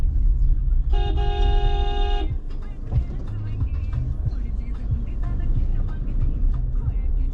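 A car horn sounds one sustained honk for over a second amid busy traffic noise and engine rumble, with faint voices in the background.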